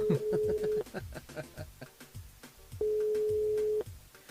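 Telephone ringing tone on a French radio morning show, a steady tone sounding twice in long bursts over background music while a listener's call is put through to the studio.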